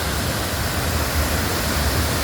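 The Soochipara waterfall in Wayanad, Kerala roars as a dense, even wash of rushing water, loud and close with no break, and no voices over it.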